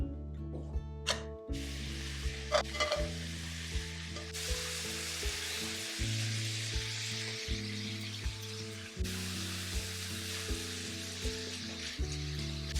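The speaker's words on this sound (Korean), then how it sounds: "프라이팬에 참기름 한 2큰술 두르시고 이걸 볶아주셔야 돼요" Chicken pieces for a garlic-heavy spicy braised chicken sizzle and fry in sesame oil in a frying pan, a steady close crackle broken by occasional clanks and stirring knocks, with no talking.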